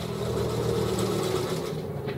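Sewing machine running a folded seam on a sling chair seat fabric, a dense continuous whirring hum with fast rhythmic stitching, close and steady throughout with no talking.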